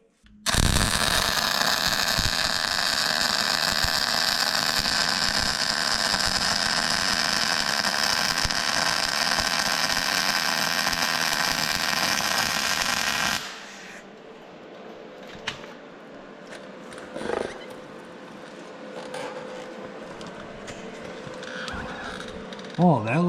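Welding a bead on quarter-inch steel gives a loud, continuous crackling hiss for about thirteen seconds, close by, then cuts off to quieter room noise and scattered voices.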